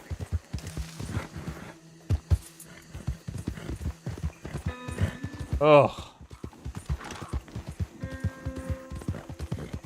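Horse hooves in Red Dead Redemption 2, a rapid run of clip-clopping hoofbeats close by, with a short whinny in the middle and a person's brief grunt over the steady trotting.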